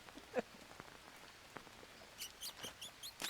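Rain falls outdoors at a roofing job, sounding as sparse, faint drips and light patter that grow busier and louder toward the end.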